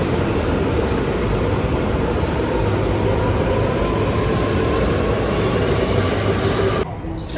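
A Japanese bullet train riding toward Tokyo, heard from inside as a loud, steady rumble of rolling wheels and rushing air, continuous throughout and dropping slightly in level near the end.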